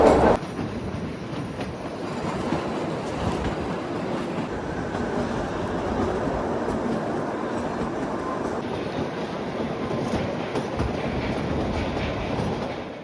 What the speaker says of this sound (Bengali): এখন পার করছি কালকা সিমলা টয় ট্রেনের সেকেন্ড লংগেস্ট টানেল।